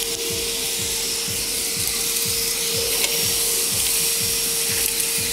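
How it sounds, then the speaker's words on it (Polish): A loud, steady motor roar of a Karcher WD3 wet-dry vacuum's blower function, with a faint rhythmic ticking underneath, continuous throughout without talk. "sprawdzimy teraz, jak poradzi sobie funkcja dmuchawy"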